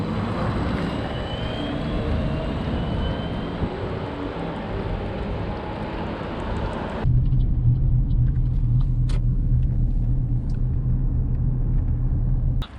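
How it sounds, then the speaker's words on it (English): A little Soviet car with a red Transnistrian plate drives by, a steady low engine rumble close by, which drops abruptly to a deeper, quieter hum partway through. "We have a little Soviet car with a Transnistrian red plate."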